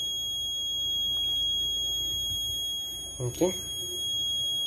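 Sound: alarm buzzer of Raspberry Pi Pico safety system

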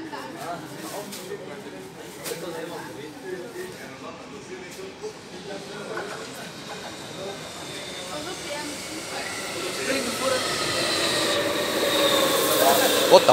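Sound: metro train running

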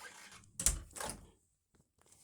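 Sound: door being closed

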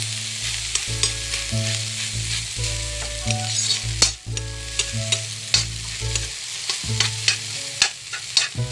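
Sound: scallions being stirred into frying scrambled egg

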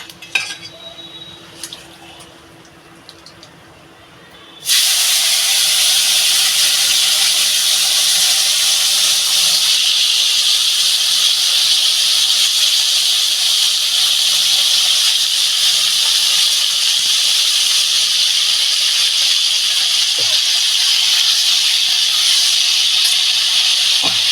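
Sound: cut ridge gourd added to hot pan, sizzling

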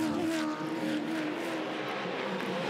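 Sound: helicopter filming a car race

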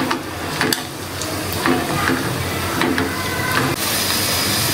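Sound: cashews and raisins frying in ghee

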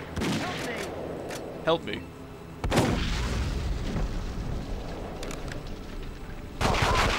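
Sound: gunfire in The World is Not Enough video game

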